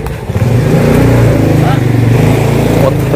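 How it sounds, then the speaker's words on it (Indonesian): A motorcycle passes close by on a street, its engine droning loud and steady with a slight rise and fall, while a voice talks over it. "Motor lewat mulu deh."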